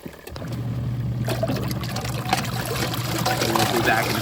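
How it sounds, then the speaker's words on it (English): Water sloshing and trickling through a portable washing machine on its rinse cycle with microfiber mop heads, a steady close churning hum running throughout. "We're now ready to do approximately a 6-minute rinse cycle."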